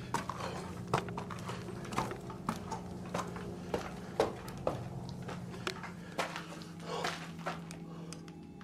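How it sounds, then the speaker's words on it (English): Footsteps thud on a staircase overhead in a reportedly haunted house, a run of irregular knocking impacts roughly once a second at moderate volume, with no one speaking. "The sounds of footsteps can be heard walking upstairs."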